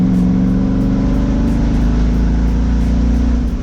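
A Chevrolet Corvette engine, the Project Grandpa drag car, runs loud and close with a steady, rough, throbbing idle and a slight rise in revs, continuous throughout with no talk.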